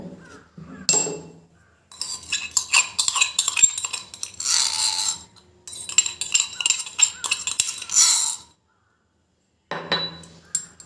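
Crushed pulp pressed through a small kitchen strainer to squeeze out juice, giving scraping, clinking metal bursts in several separate bouts with short quiet gaps, close and fairly loud.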